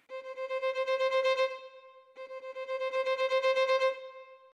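A SWAM virtual violin played from a ROLI Seaboard gives two sustained bowed notes with slow tremolo, each swelling and pulsing steadily, with no other sound.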